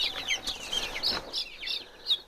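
Young chickens, including Isa Browns, chirp and cluck in a barn with frequent short, high peeps in an irregular rhythm, fairly close and moderately loud.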